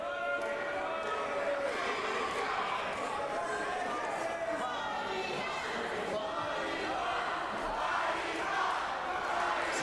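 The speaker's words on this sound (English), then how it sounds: "This crowd of the Goodwood Community Centre letting them know, SWAT and Katie Tray, that is how they feel about them." A partisan wrestling crowd at Goodwood Community Centre chants and shouts in a dense, continuous roar during the event, with commentary voices over it.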